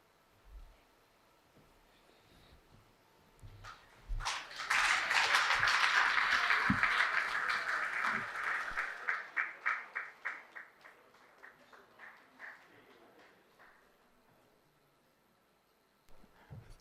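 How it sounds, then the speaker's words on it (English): An audience at a plenary conference session bursts into applause for a speaker, the clapping swelling quickly, holding loud for a few seconds, then thinning into scattered individual claps before fading to quiet. "Please, another round of applause for Ransford."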